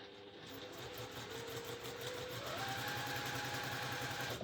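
A sewing machine stitches a zip along the edge of a fabric box, a fast, even mechanical chatter that holds steady and rises slightly in pitch as it speeds up.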